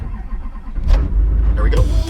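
A diesel truck engine starting after the glow plugs warm up: a short crank, then the engine catches and settles into a rough, close rumble, with a voice talking over it.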